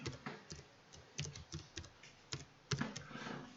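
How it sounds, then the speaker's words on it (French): Close, irregular clicks of a computer keyboard as an address is typed, with quick keystrokes in uneven bursts and short pauses. "Là je tape 45 700 Vimory"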